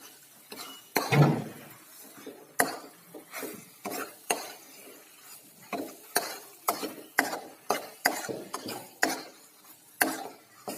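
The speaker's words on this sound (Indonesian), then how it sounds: "kita aduk lagi terus. Kita aduk terus ya." Beef rendang stirred in a large pot in a mosque kitchen, a spoon scraping and knocking against the metal in repeated irregular strokes, fairly close and clear with no talk.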